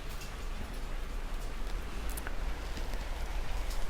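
A heavy summer rain shower pours down outside, a steady broadband hiss with scattered drip ticks, heard indoors at moderate level and continuous throughout.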